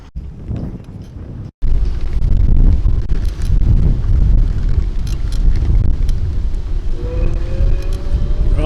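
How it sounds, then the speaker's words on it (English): Strong wind on the River Trent buffets the microphone with a loud, continuous rumbling roar, briefly cutting out before resuming just as heavily. "It could be a bit too windy"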